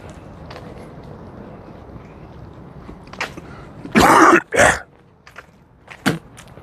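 Two loud, harsh coughs close together, followed by a fainter third cough, over quiet background noise with a few soft knocks.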